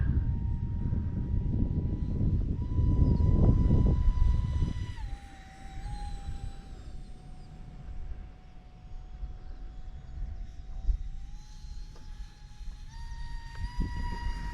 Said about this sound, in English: What a fun airplane to fly.